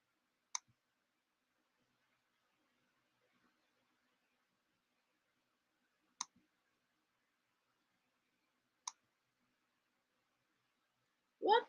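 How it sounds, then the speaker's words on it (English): A computer mouse gives a few sharp, isolated clicks spaced seconds apart in a quiet room, each brief and crisp, with a short muffled sound at the end. "I click something and it's like really not clicking."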